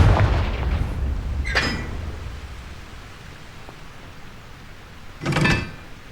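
Confringo blasting spells go off in the Hogwarts Legacy video game as two sharp, loud bursts a few seconds apart, each a short crackling impact that fades into a low lingering rumble.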